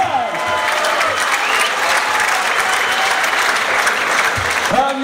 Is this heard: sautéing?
no